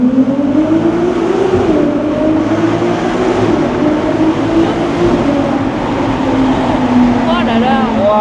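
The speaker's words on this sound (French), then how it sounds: "Quand tu montes dans les tours, il est vraiment beau ce bruit" A Ferrari engine climbing through the revs while driving around Monaco, a steady loud drone whose pitch rises and falls, with voices talking over it throughout.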